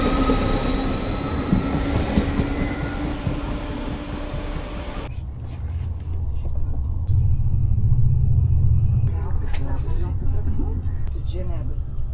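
A train rumbles along the rails toward Geneva, Switzerland, with a steady low roar and rhythmic clatter, while voices talk inside the carriage over the noise.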